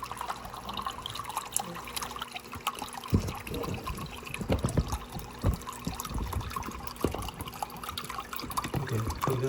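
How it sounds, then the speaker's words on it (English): Water trickles and gurgles through a mushroom siphon valve as a flood and drain pot empties, a steady close flow broken by irregular splashing pulses and drips, with no voices. "Water is running out and going in"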